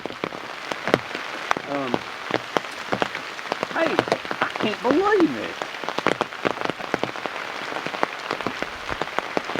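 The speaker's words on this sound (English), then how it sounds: "as you can hear, there's rain" Rain patters steadily on a surface, with scattered sharp drops, while a person speaks briefly in the middle.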